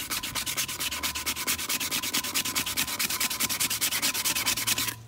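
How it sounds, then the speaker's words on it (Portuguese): A car wheel being sanded by hand with sandpaper, giving a steady, rapid back-and-forth rubbing rasp in even strokes, loud and close, with no voices. "eu vou lixar na calma"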